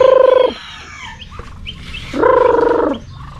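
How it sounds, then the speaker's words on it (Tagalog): A fighting rooster gives two loud, drawn-out throaty calls close by, separated by a quieter pause with faint background sounds. "meron pa tayong manok na panabong, oh"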